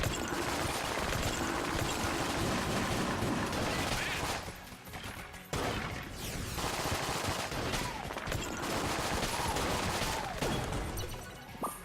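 Dense rapid gunfire from the video game Enter the Gungeon, continuous bursts of shots and impacts with a brief lull midway, then more volleys, loud and busy without speech.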